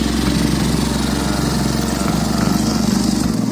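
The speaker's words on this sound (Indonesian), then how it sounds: "inilah traktor yang dirakit oleh Bang Wan." A homemade mini rice-field tractor built around a motorcycle engine runs close by, its motor chugging in a fast, steady putter with a low hum before cutting off at the very end.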